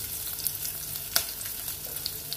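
Mustard seeds, chilli and chopped shallots frying in coconut oil in a pan, a steady soft sizzle with small crackles and pops scattered throughout.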